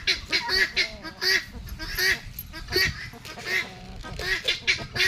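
Turkeys calling loudly and repeatedly nearby, a busy overlapping flock of harsh, rhythmic gobbling cries that runs through the whole stretch.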